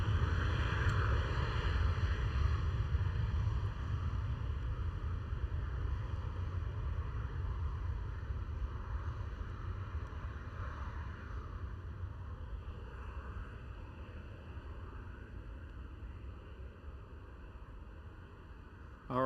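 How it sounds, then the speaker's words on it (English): A KLM Boeing 787-10 airliner passes at Amsterdam Schiphol, a sustained broad jet roar with low rumble that slowly fades over about nineteen seconds, heard from a distance with no talk. "Alright, there goes the KLM 787-10."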